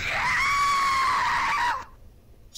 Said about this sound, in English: all of a sudden a freaking scream in my left ear